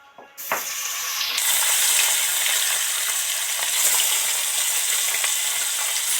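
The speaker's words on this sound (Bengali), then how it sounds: "এবার একটা একটা করে মাছগুলো তেলের মধ্যে ছেড়ে দেব" Amudi fish slide one by one into hot oil spiced with turmeric. A brief splash sets off a sudden loud sizzle that keeps on as a dense, continuous crackle, with no voices.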